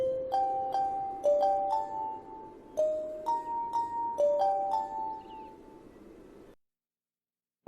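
A song's opener, played on an in-game instrument in Sky: Children of the Light, comes as a run of clear, bell-like plucked notes in a quick, uneven melody. It rings alone, then stops and leaves silence before a brief click at the end.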